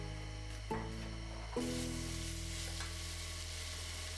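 Sliced onions and shallots sautéing in a hot pan with green chillies for a mutton vegetable kurma, a steady dense sizzle with a couple of stirring clanks near the start.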